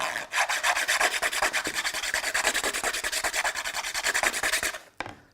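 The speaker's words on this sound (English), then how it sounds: "take the point, put it right on the sandpaper, and then you're going to kind of make round motions" An eyeglass lens edge is ground on sandpaper in quick round motions, giving a steady, fast rhythmic rasping scrape that runs for about five seconds, close and loud, then stops abruptly with one faint final scrape and no talk.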